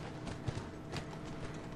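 Horse hooves clip-clop at a steady walking rhythm in The Last of Us video game, fairly quiet and close, over a dense game background with no talk.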